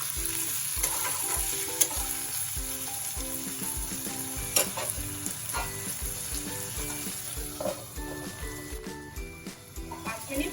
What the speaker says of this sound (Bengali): এবারে আমি টমেটোটাকে ঢেকে ঢেকে রান্না করব